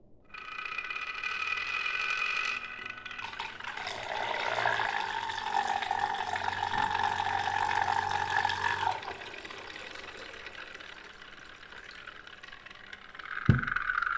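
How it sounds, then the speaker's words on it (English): Unfiltered tap water runs from a kitchen sink faucet, a steady hissing stream for several seconds that eases off, followed by quieter rattling and a sharp clunk near the end. "just tap water, straight from the sink, unfiltered"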